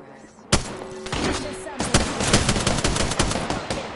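Rapid bursts of automatic gunfire in the Apex Legends battle royale shooter, beginning abruptly after a quiet half second and continuing as dense, loud, overlapping shots with faint voice chatter underneath.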